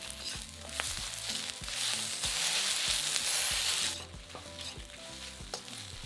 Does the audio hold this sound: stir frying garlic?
yes